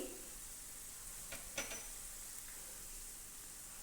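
Turmeric, garam masala, coriander and chilli powders sizzling softly in a pan for a Kerala-style egg roast, a steady faint frying hiss with a couple of brief stirring clicks.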